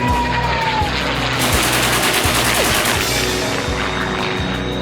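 Gunfire in a WWII dogfight with Me 262 jets, a dense, loud roar of engines under irregular repeated bursts and thuds that fill the whole stretch without pause.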